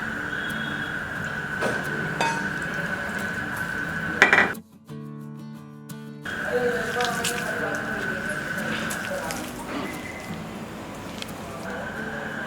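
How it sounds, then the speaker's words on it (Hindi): Rice flour batter is worked by hand with water added bit by bit, giving soft wet squishing and slapping sounds close up in a kitchen, with a short pause midway and a steady tone humming in the background. "इसमें हम थोड़ा थोड़ा पानी ऐड करेंगे और इस मिक्सचर को बाइंड करेंगे।"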